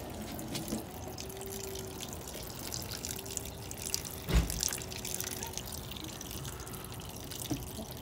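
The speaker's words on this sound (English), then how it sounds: "you lift the hood, you just have to be careful all the water doesn't go splattering" Water drips and splatters off a lifted aftermarket Killer Bee car hood, light scattered drips with one sharper splash midway over a low steady hum.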